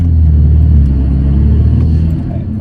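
A VW Scirocco R fitted with a Revo induction kit, heard from inside the cabin on a slow drive: a loud, steady low engine drone and rumble that eases slightly toward the end.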